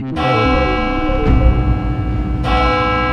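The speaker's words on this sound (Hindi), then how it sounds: "घंटी बजी।" A deep courtroom bell rings loudly up close, struck three times in quick succession with rich, sustained overtones ringing between strikes.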